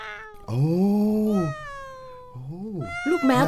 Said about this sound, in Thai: ลูกแมวตัวเล็กครับคุณ